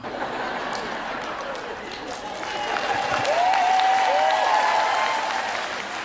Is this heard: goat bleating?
no